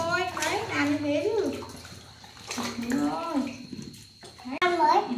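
Plums being washed by hand in water, gentle splashing and sloshing close by under nearly continuous talk between an adult and a small child.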